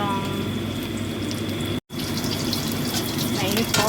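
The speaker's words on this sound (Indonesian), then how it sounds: "Nah ini proses goreng terong." Eggplant sizzles in hot oil, a dense steady crackle and hiss with a brief dropout midway, then the frying resumes with faint spatters near the end.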